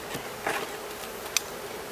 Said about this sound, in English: Now I'd like to get all these bees into one box